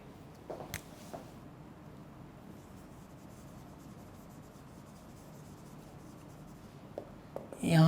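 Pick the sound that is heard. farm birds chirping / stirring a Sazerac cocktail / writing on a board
writing on a board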